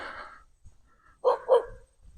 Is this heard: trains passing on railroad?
no